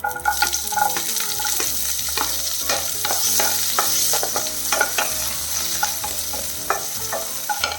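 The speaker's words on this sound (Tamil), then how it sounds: "இதில் வந்து ஒரு பதினஞ்சு சின்ன வெங்காயத்தை இந்த மாதிரி கட் பண்ணி வச்சுருக்கிறேன் அதை சேர்த்துடலாம்" Small shallots frying in oil with curry leaves, a bright crackling sizzle with repeated spatula scrapes and clinks against the pan, close and steady, no voices.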